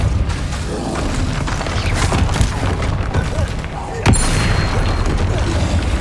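Spell combat in Hogwarts Legacy: loud, continuous booms, thuds and crashing impacts, with one sharper blast near the end, while a voice shouts over the fight.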